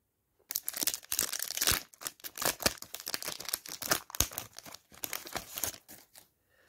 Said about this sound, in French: je vais maintenant ouvrir chaque sachet